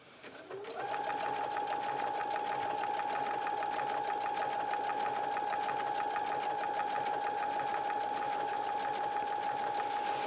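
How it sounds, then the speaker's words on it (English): A regular domestic sewing machine running an overcasting stitch over a fabric edge, a steady rapid mechanical whir with a constant tonal hum, starting after a brief moment and continuing evenly and close throughout. "By using an overcasting stitch on your regular sewing machine"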